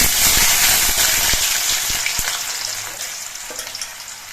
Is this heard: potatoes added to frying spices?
yes